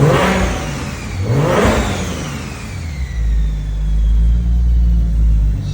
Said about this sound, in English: Give you guys a couple little revs